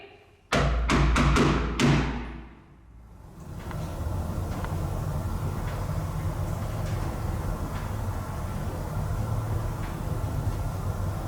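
Loud knocking bangs inside the old Joliet prison, a quick series of five or six sharp, resonant thuds packed into about a second and a half, then a reverberant rumble and steady low background noise.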